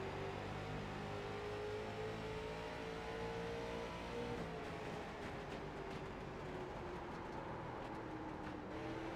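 Late model race car engines drone around USA Speedway, a short track in iRacing, their steady whining revs rising and falling together in a continuous, fairly quiet pack of cars.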